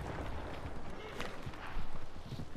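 Horses gallop in Red Dead Redemption 2, a steady drumming of hooves with a brief louder surge near the end, set against a dense game background.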